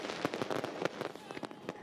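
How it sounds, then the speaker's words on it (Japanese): Fireworks at the Funabashi Port Shinsui Park fireworks festival on a summer night, with around 8,500 shells launched, crackle and pop in a dense, continuous stream of distant bursts. "船橋の夏の夜空を彩るおよそ8500発の花火が打ち上げられました。"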